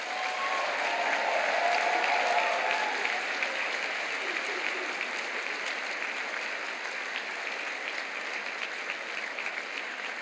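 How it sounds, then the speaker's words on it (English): A large graduation audience at a University of Stirling ceremony claps and cheers steadily, a dense continuous wash of applause that holds at full strength for about ten seconds without easing. "please give them all a very big cheer"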